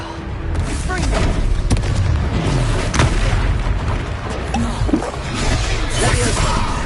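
Confringo blasting spell cast in the video game Hogwarts Legacy, heavy booming bursts that recur through steady, loud combat noise, with voices now and then.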